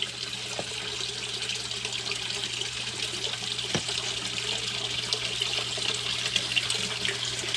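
A small indoor waterfall trickles among houseplants with a steady, soft splashing of water. The sound is continuous, close and fairly quiet, with a low hum underneath.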